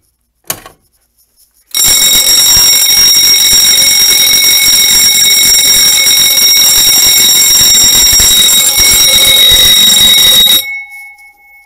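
Fire alarm ringing loudly and continuously after a Grinnell pull station is pulled, a sustained bright electronic tone that starts abruptly after a few clicks and cuts off cleanly about nine seconds later, heard alone.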